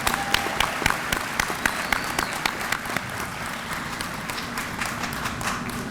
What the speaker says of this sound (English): Please give our concert band a round of applause.